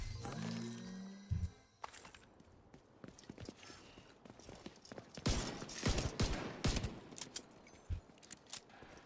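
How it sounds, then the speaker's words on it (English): Pistol gunfire in The Division 2 video game: sharp irregular shots, some in quick pairs, over busy game ambience with mechanical clicks and clatter. "this pistol does a lot of damage"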